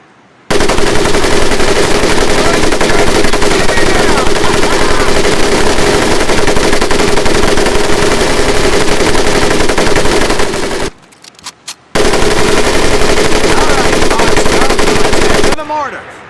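Rapid automatic gunfire from a mounted weapon in the World War II shooter game Medal of Honor: Pacific Assault, loud and close, running in long sustained bursts with one brief pause before firing resumes.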